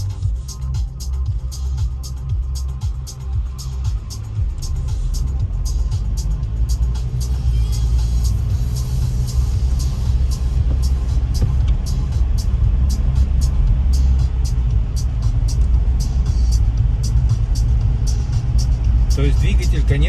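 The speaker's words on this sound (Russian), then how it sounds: "все равно будешь слышать звук мотора, но ты его слышишь иначе." A soundproofed Mitsubishi Pajero Sport 2 pulls away, its engine a low steady rumble heard from inside the cabin while someone talks over it.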